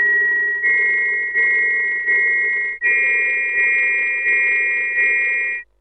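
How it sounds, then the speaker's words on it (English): A digital glass harmonica replica sounds held chords of pure, organ-like sine tones, retriggered in steady pulses about every two-thirds of a second, loud and close with no voices. "You can play chords."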